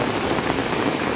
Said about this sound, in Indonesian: Nah, ini kalau hujan kayak gini.